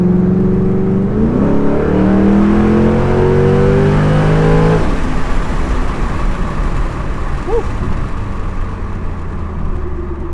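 A 2006 Mustang GT V8 with a cold air intake and tune roars as it accelerates hard, pitch rising before a gear shift, then a rumbling, whooshing drive continues.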